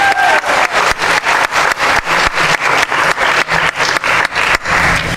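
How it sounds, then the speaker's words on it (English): A high school academic awards ceremony audience applauds a scholarship recipient, steady loud clapping filling the room for several seconds, with a brief voice at the very start. "We can clap. We'll clap after each one."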